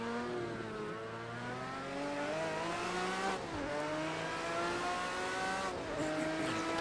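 Group C race cars at the Hockenheimring in the video game Project Cars 2 hold a loud, continuous high-revving engine whine that drops sharply in pitch twice as they brake and downshift, with a faint tire squeal.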